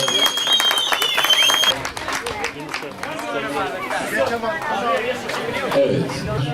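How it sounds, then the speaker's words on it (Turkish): Outdoor kite festival audience claps for a prize-winning kite; a speaking voice comes first, then scattered applause mixed with crowd chatter and babble continues throughout. "Bir alkışlayalım."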